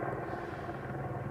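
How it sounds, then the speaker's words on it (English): A helicopter hovers directly overhead near a heliport, a dense, steady rotor drone filling the air, close and constant for a brief moment with no voices. "basically a helicopter's hovering right above us"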